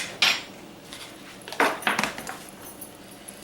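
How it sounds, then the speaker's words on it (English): Powdered milk and coconut being stirred in a bowl for candied coconut treats, with a few close scraping and clinking utensil knocks against the bowl, spaced irregularly and fairly quiet. "I'm going to cover that up, and I'm going to give it another good mix."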